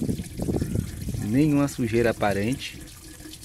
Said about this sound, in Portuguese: Vou tirar toda a água.